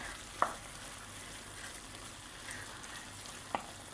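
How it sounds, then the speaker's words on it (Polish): Ground meat with spices including cinnamon stews in a pot for a Mexican soup, giving a quiet, steady low simmer with two brief sharp clinks of a utensil against the pot. "niech tam tu się jeszcze podusi trochę, bo raczej bym nie nazwał tego smażeniem, tylko duszeniem"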